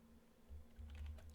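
Keys tapped on a computer keyboard while a command is typed into a Kali Linux terminal, a short run of quiet clicks over a low steady hum, with no talking.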